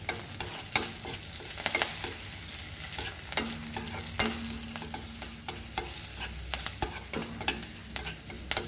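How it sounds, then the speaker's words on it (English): Green chilies frying in a pan with oil for masoor dal khichdi (lentil and rice), a steady close sizzle broken by repeated sharp scraping stir strokes, with no talking. "Then we'll add our chilies into this. And let's fry this nicely."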